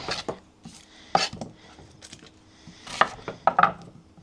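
An onion is peeled and cut into chunks on a cutting board, giving a series of crisp knife taps and scrapes at an uneven pace, close up with no speech.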